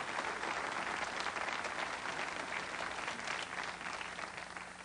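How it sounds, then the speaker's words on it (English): Studio audience at a 1992 television talk show applauding in a steady, dense roar of clapping that holds evenly throughout, with no voices over it. "Everybody give him a round of applause."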